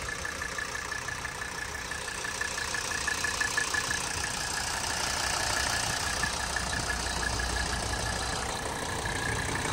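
A 1983 Mercedes 300D diesel idling, a steady, even mechanical drone with a faint knocking texture running unbroken throughout, heard close with no talking.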